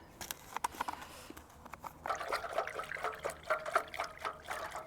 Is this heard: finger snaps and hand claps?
no